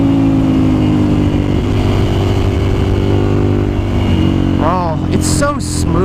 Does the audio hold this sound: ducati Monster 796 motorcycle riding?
yes